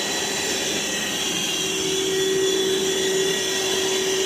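A Ryobi ONE+ 18V cordless one-gallon wet/dry vacuum runs close and steadily, a constant whooshing motor drone with a high whine.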